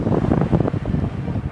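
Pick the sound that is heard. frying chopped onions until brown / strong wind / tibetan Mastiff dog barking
strong wind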